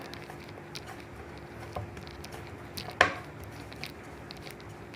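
Knife cutting kapanya dough on a board, mostly soft, faint taps with one sharper clear chop in the middle, close and quiet with no talking.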